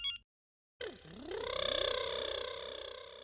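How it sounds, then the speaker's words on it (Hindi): A phone call on speakerphone: after a short burst and a silent gap, a warbling electronic ringtone rises and pulses steadily, fairly faint. "मैं स्पीकर पे फोन कर रही हूँ"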